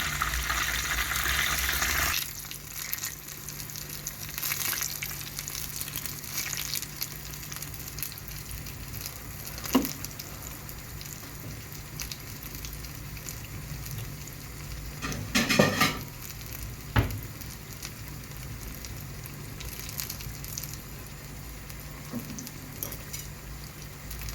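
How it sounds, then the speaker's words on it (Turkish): Steady sizzling of eggplant frying in hot oil, continuous and close, with occasional clinks and stirring sounds. "güzelce kızartayım ben bunu"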